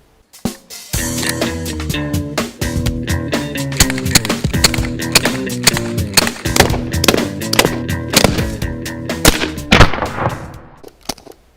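A Crosman 1911BB BB air pistol fires in rapid, dynamic strings, sharp close snaps arriving in quick irregular bursts with brief pauses, loud and without talk.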